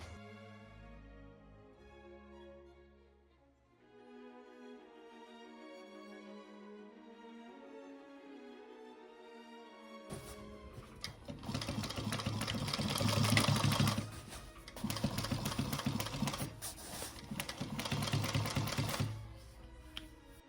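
A sewing machine stitches fabric pockets onto a knife pleat Roman shade, its fast steady whirring running loud and close through the second half after a quieter opening with music.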